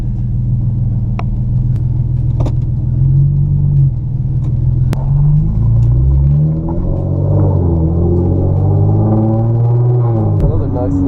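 A Genesis Coupe 3.8 with a straight pipe exhaust revs hard and loud from up close, its rumbling drone rising and falling through pulls, with a few sharp exhaust pops cracking over the steady engine noise.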